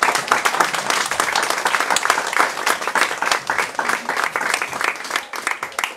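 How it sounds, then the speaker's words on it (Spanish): Crowd applause for a political speaker at a campaign gathering in Cancún, steady dense clapping from many hands lasting several seconds with a few louder individual claps standing out. "un aplauso para Eduardo Mano Martínez"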